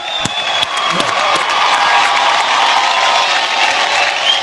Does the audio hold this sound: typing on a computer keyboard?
no